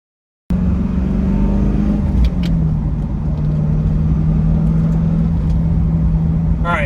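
A stock C5 Corvette with a six-speed manual starts up abruptly and drives off, its engine a loud, steady rumble with a brief shift in pitch near the start and a faint voice over it toward the end.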